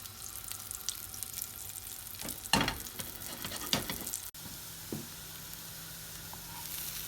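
A vegan lentil patty pan frying in hot oil, a steady close sizzle with a few louder bursts of crackle and spatter midway, then settling back to a soft, even fry.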